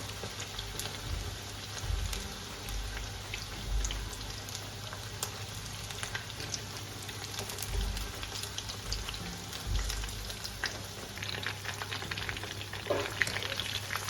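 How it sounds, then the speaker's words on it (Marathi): Chicken lollipops deep fry in oil on a low flame, giving a steady, dense crackling sizzle that continues evenly throughout, close by with faint occasional clinks. "थोडासा बारीक गॅस करून तळायचे, जास्त मोठा गॅस नको."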